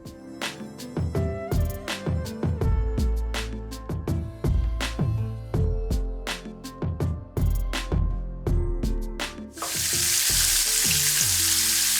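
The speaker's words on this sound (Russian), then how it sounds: "И пусть наши биточки поджариваются." Meat patties sizzle in a frying pan amid repeated clattering taps and scrapes of a knife, ending in a loud, steady hiss of frying.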